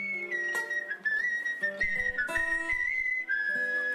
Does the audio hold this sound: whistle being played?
yes